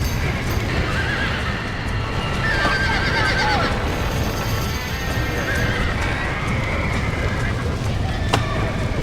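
Horses in the video game Red Dead Redemption whinny and neigh repeatedly over continuous hoof clatter and dense, noisy game ambience, with a voice shouting in the mix.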